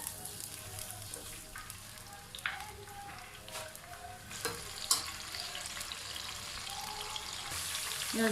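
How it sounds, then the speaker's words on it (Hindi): Almonds fry in hot oil for zarda sweet rice, a soft steady sizzle with scattered clinks and stirring sounds, fairly quiet. "अब हम इसे गर्म कर लेंगे और इसमें बादाम डाल देंगे।"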